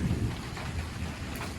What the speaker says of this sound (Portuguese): Tá começando uma chuva,